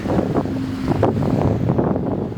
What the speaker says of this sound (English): by the sound and by the background, I reached the Mediterranean Sea